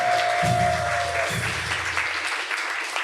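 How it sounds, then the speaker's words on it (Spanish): A church congregation applauds in praise at a Spanish-language service, a steady wash of clapping with a low sustained tone underneath, fading slightly toward the end. "Dale ese aplauso a Jesús"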